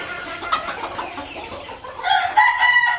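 Desi chickens on a Bangladeshi poultry farm cluck and call in a busy, close flock, with clearer, louder bird calls toward the end; no one speaks.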